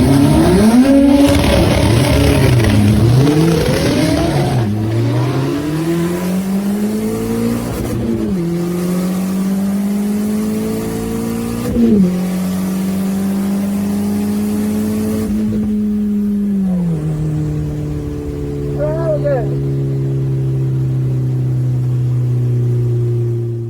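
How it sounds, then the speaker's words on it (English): A 4x4 Vauxhall Nova engine revs hard through repeated gear changes, each rising pull dropping back as it bogs down between shifts, loud and close, with a steady high drone near the end. "Still not revving out properly. It's bogging down between gear changes, top end"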